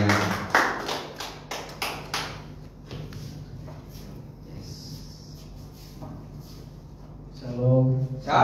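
A church congregation at a worship night claps hands in a short burst of loud, rhythmic claps that fades into quiet shuffling and room noise, with a voice beginning at the end.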